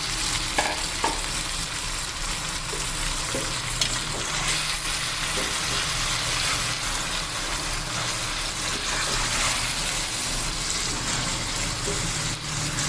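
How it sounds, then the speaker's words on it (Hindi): Beef mince frying in a pan with cumin, ginger, garlic and onion gives a steady, close sizzle with occasional stirring scrapes, continuous for the whole stretch with no talking. "देखिए अब हमें करनी है कीमे की भुनाई अदरक लहसुन और प्याज और जीरे के साथ"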